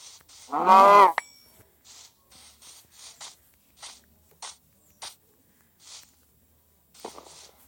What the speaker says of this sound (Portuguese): Tem uma vaca aqui.